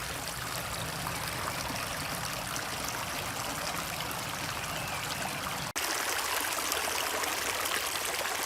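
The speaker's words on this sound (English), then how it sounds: "A bit of a douse in a nice little stream." A small stream flowing steadily outdoors in the morning, a close continuous rushing trickle that fills the whole clip with no talk.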